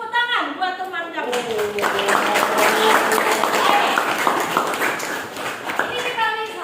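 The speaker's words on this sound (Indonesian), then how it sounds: "tepuk tangan buat teman kamu" A classroom of students applauds a classmate, a burst of clapping that swells and fades over several seconds alongside a teacher's voice and some chatter.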